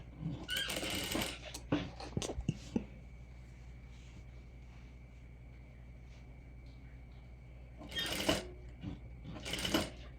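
A sewing machine joins two fabric pieces placed right sides together with a half-inch seam. It runs in short, close clattering bursts, falls quiet through a long middle stretch, then starts stitching again in two more bursts.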